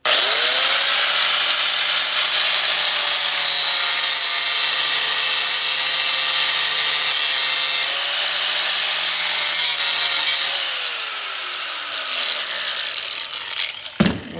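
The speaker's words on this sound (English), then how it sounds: "So now we're gonna show you how we just cut it real quick, grind it off, and then made a makeshift flathead." Power-tool cutting and grinding on a metal ATV part, a loud continuous whine that holds steady for about ten seconds, then tapers off and falls in pitch as the tool spins down, with a few clanks at the end.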